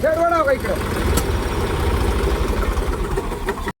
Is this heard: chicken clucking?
no